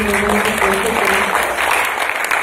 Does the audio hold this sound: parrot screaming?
no